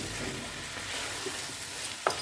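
Spices being stirred into mixed vegetables for a Kolhapuri-style dish in a pan, with a soft continuous sizzle and scraping, and a light clink from the spoon near the end.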